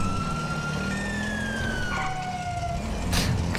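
A damaged police car's broken siren in the video game GTA 5 gives thin, drawn-out electronic tones that slide and waver over a constant loud wash of engine and road noise.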